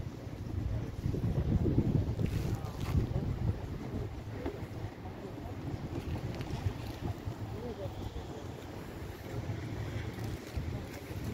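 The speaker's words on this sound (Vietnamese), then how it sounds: "hiện tại thì trời cũng rất là gió" Strong wind buffets the microphone outdoors near a queue at a Canadian shopping area, a continuous rushing gust noise louder at first, with faint background activity.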